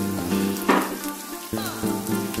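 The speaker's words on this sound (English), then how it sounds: "That onion's sautéing in the olive oil." Onion and zucchini sautéing in olive oil sizzle loudly and steadily up close, with a brief flare of stirring partway through and a continuous crackling hiss beneath, with no one speaking.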